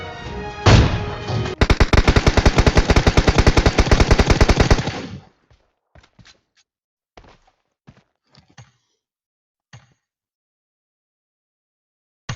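PUBG Mobile gunfire: a single loud shot, then a rapid automatic burst of dense, evenly spaced shots lasting about three seconds. Scattered faint clicks and thuds follow in near quiet.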